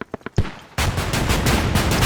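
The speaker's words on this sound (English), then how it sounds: "Some pretty good mortars here." Mortar fire in Squad opens with a few quick sharp pops, then a heavy blast and a sustained loud roaring barrage.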